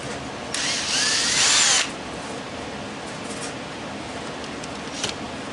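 A power drill backs screws out of an old electric weed eater being scrapped: one short, high, whining burst of a little over a second, close by, then a quiet room with faint handling noises.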